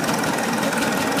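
Cross Motor K-10 prairie tractor engine running in a parade, a steady low rumbling drone with pulsing mechanical texture, close and continuous with no talk.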